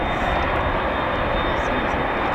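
A fixed-wing aircraft arriving at RAF Fairford during the Royal International Air Tattoo airshow, a steady loud engine roar filling the scene with a thin high whine, heard outdoors from the ground.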